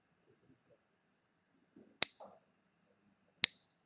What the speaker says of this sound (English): Snap my fingers.